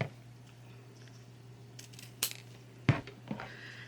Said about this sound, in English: I use pinking shears, but you guys, you know, trim up the edges of your ribbons.